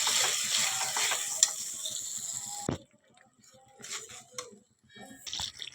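Spices for a sea fish curry frying in a pan make a loud sizzle with scraping stirs for nearly three seconds, then the sizzle cuts out, leaving sparse clinks and scrapes.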